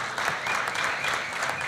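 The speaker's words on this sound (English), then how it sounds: "I think we all should give them a big round of applause for that achievement" Audience applause at a congratulatory ceremony for Kyron McMaster, world 400 m hurdles gold medallist, a dense steady patter of many hands clapping at moderate volume throughout with no one speaking.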